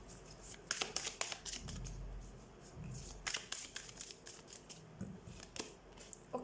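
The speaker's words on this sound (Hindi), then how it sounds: "So let's shuffle the cards and let's see." Tarot cards being shuffled by hand, a quiet, close run of soft riffling snaps and papery slides arriving in uneven bursts.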